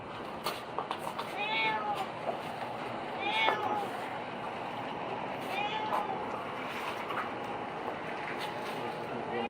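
A cat meows three times at intervals, its plaintive cries fairly close over a steady background hum and scattered small knocks, with no talk during the calls.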